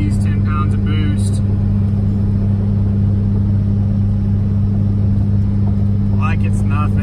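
A Cummins 5.9 diesel truck with an S468 turbo tows uphill at about 75 mph, giving a steady, loud, unbroken engine drone and low rumble.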